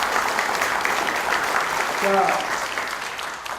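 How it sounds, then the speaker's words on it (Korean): An audience at a provincial traditional-market policy forum in Chungnam claps in a steady, full round of applause. A voice briefly cuts in partway through. "이 때문에 박수 한번 해주실래요?"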